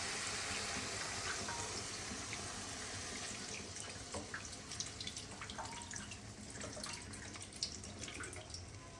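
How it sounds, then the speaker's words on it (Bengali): Water is poured into a pan of eggplant fried with spices, a steady splashing and trickling that runs continuously with small drips, fairly quiet and close. "এবার জলটা দিয়ে দেবো।"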